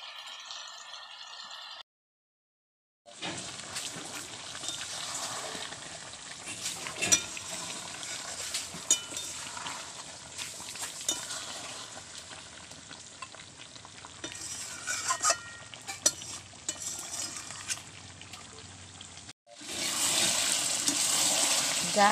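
Chicken curry with potatoes stirred in a pan over a low flame as the water cooks off, steady scraping and soft sizzling with faint clatter throughout, close up after a short quiet gap.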